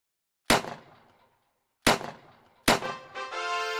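A gun fires three separate sharp shots, spaced more than a second apart, each a loud crack trailing off quickly, the last followed by a lingering ringing tone.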